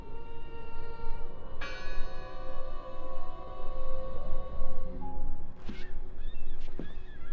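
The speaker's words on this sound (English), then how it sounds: "I heard the bell!" A church bell rings in the Draugen video game, one strong strike swelling and slowly fading over a steady background, with a few faint sharp game noises near the end.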